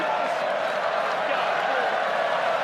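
English rugby league fans in the crowd at Lang Park during the 2017 Rugby League World Cup final, a steady, dense roar of cheering and chanting that holds at an even level throughout.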